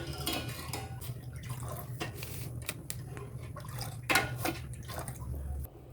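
A spoon stirs thin sugar syrup in a pot for potato gulab jamun, giving faint, irregular metallic scrapes and clinks against the pot over a low background hum.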